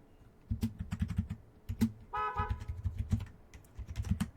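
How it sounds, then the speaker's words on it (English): A computer keyboard is typed on nearby in quick bursts of sharp clicks, with a pause and a brief steady tone in the middle before the tapping resumes. "pressing the keyboard buttons feels a lot more comfortable"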